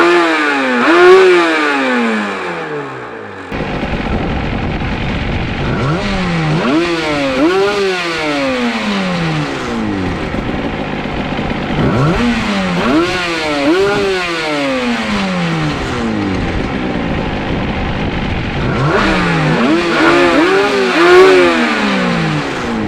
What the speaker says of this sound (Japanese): K2 テックのチャンバーはステンレスチャンバーなんで乾いた音がしますね